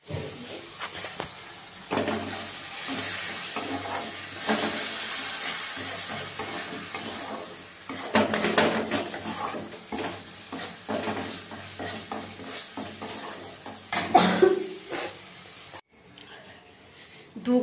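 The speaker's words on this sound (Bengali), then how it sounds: "পেঁয়াজ রসুন আদা আছে, ওটা তো ভালো করে গন্ধটা যাক, তখন সেগুলো ভাজতে থাকি" Onion, garlic and ginger fry in a pan with a loud, hissing sizzle that swells and fades as the mixture is stirred, someone talking over it, briefly cutting to quieter sound near the end.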